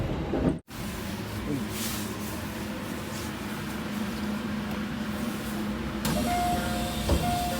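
A train rolls steadily into Yaesu in Tokyo with a continuous close rumble, briefly cutting out early on, then a clear electronic tone sounds near the end as it stops.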